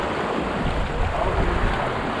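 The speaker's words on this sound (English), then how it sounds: "The wind has changed." Steady wind rushing over a MacGregor 26x sailboat heading upwind on a Tampa test sail, a loud, constant broadband roar mixed with water wash against the hull, with no voices.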